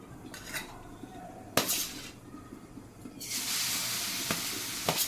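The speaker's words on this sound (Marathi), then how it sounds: "भाजीसाठी जी फोडणी घालून घेतली ती परतून घ्यायची व्यवस्थित" Vegetable tempering stir-fried in a pan, with occasional spoon clacks and scrapes against the pan over a soft sizzle that swells into a louder, hissing fry near the end.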